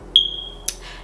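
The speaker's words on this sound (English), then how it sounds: "excuse the stupid fire alarm, battery is going dead" Single high-pitched chirp from a smoke alarm with a dying battery, a sharp short beep close by, then a faint click in a quiet room.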